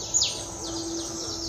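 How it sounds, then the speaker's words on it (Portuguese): Birds chirp and sing on a farm in the early morning, with a bright descending call near the start followed by repeated sweeping chirps over steady low background hum. "Começo a escutar o canto dos pássaros."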